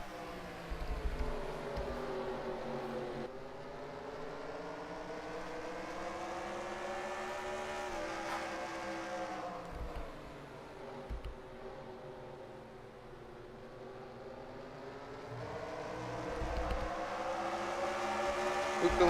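Modified race cars roar around the track at Stafford Springs in a sustained engine drone that rises and falls as the field passes, loud and continuous, with faint commentary underneath.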